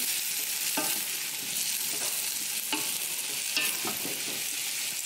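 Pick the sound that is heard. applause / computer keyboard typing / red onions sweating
red onions sweating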